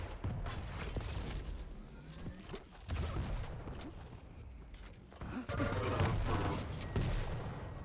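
Gunfire from a competitive online 2v2 shooter match, with sharp shots and a brief burst scattered through busy game sounds and mechanical clatter, with no one speaking.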